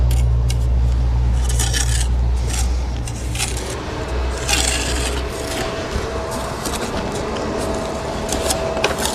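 A trowel cuts and scrapes mortar from the joints of a stone wall under construction, making repeated close rasping strokes in short bursts over a steady low hum, with no talking.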